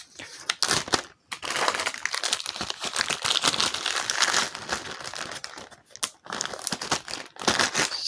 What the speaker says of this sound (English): Since there's not a lot here, I'm just using a smaller Ziploc.